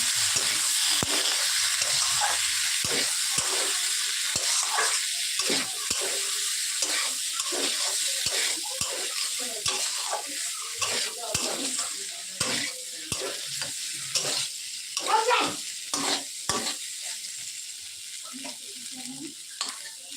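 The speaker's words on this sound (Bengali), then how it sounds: "আলুগুলোকে দিয়ে ভালো করে নড়াচড়া করে নেবো" Boiled potatoes stirred into a frying soybean curry: a steady sizzle and hiss with repeated soft scrapes and clinks of a spoon against the pan, close and continuous, with occasional faint voice.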